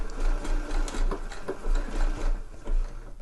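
A sewing machine stitches an ear warmer, running in rapid rhythmic bursts of mechanical clatter, close and loud, slowing near the end for a few back stitches.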